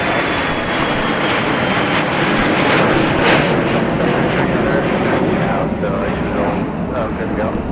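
Delta airliner engines roaring steadily on takeoff at MSP airport in winter, a broad loud rush with some wind noise and radio chatter over it.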